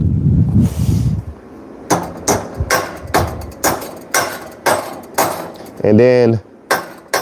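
A hammer taps a metal e-bike part in a workshop in a steady series of about a dozen close, sharp, ringing strikes, with a brief spoken phrase between them.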